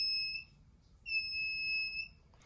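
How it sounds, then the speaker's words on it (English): A proximity-sensor buzzer on a TWIN Curiosity coding kit gives two steady, high electronic beeps, the first short and the second longer, with a brief gap between them, faint but clear against a quiet room. "the buzzer starts making a sound."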